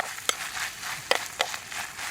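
A spoon scraping and stirring bacon in a pot on a historical railroad trail, faint and close, with a few brief clinks and soft sizzling shuffles.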